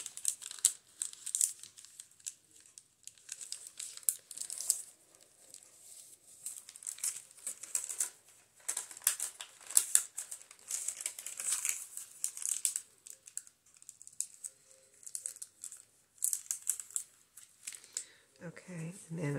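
Paper crinkling and rustling as a junk journal page made from trash is folded in on each side, a steady run of close, soft crackles and rustles with a little talk near the end.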